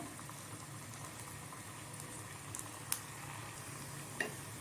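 Onion bonda balls frying in hot oil, giving a steady, soft sizzle and bubbling with a few brief sharper pops, near and continuous with no talk.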